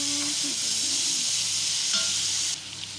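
Corn sizzles loudly in a frying pan as it is stirred, a steady close hiss of frying oil with faint scraping, easing slightly near the end, no talk.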